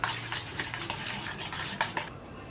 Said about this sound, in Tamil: இதுக்கு தேவையான சால்ட்டு நல்லா பீட் பண்ணிக்கோங்க